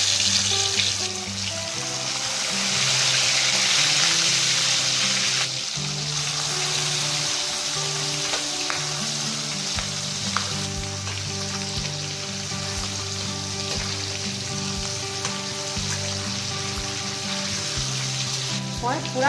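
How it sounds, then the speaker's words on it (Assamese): Fish half-frying in hot oil in a wok at home, a continuous loud sizzle with crackling spatter and occasional clinks, heard alone throughout. "এতিয়া এই মাছখিনি হাফ ফ্ৰাই কৰি ল'ম"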